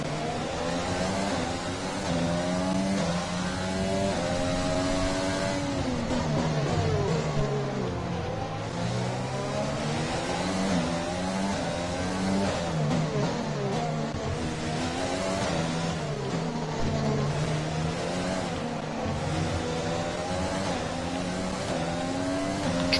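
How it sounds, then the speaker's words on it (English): The Honda engine of a Formula 1 car in the F1 2020 video game on the Azerbaijan circuit revs loudly and continuously, its pitch rising and falling through gear changes for the whole stretch. "The power of this Honda engine is fucking appalling."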